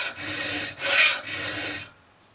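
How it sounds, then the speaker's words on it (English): A hand file rasps across the teeth of a pole saw blade in three steady strokes, close and loud, the middle stroke strongest, before falling quiet. "I try to use the whole file, and then I rotate the file"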